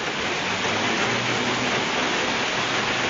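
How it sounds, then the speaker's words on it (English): Spring hail pours down in California, a dense, steady hiss of pelting ice with no distinct gaps, loud and close throughout. "hailing in April in California"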